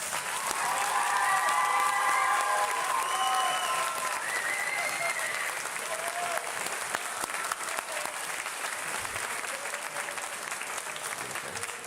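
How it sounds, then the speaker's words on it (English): A concert audience claps at length for the graduating senior string players of a high school orchestra, broad sustained applause with faint sustained string tones ringing underneath early on. "Can you please give class of 2024 string seniors a big round of applause?"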